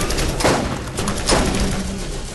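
Turret rocket firing in the Borderlands video game, two short, sharp blasts about a second apart over a busy background of game noise.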